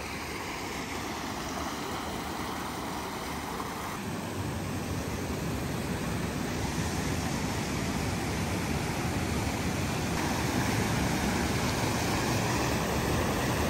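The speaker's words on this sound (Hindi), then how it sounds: "पानी का फोर्स देखो" A fast river rushes with great force, a loud, steady broadband roar of churning water that holds for the whole stretch with no voices.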